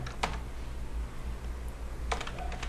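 A computer keyboard is tapped in a few short, close clusters of keystrokes over a low steady hum, faint and without speech.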